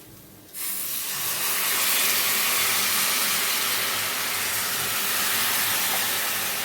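Tamarind pulp poured into a hot pan of fish curry (pandugappa pulusu) sets off a sudden loud sizzle that settles into a steady, broad hiss lasting several seconds, close up with no talking.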